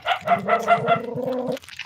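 A dog barks in a quick run of five or six close, sharp barks, followed by a longer whining yelp, fairly loud and near.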